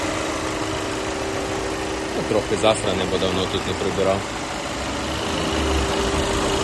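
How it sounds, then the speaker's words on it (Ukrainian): An Audi A4 B8 Quattro 1.8 TFSI engine idles steadily in the background with a low continuous hum, while someone talks briefly over it. "щоб бачив, як працює двигун"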